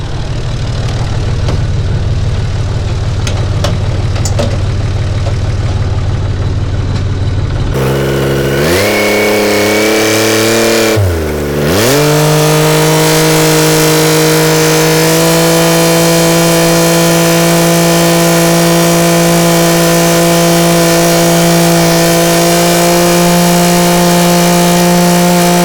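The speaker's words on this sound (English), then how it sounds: "we're going to get on the tractor and ride over here to the garden" A diesel tractor engine idles, then revs up sharply and settles into a loud, steady drone, close by and with no talk.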